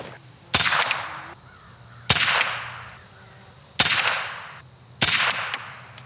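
Four sharp cracks from a Remington 552 Speedmaster semi-automatic rifle firing .22 Long Rifle rounds outdoors, spaced about a second and a half apart, each loud and close with a short ringing echo trailing off.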